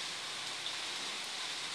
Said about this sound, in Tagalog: Ulan kayo kasog mga idol.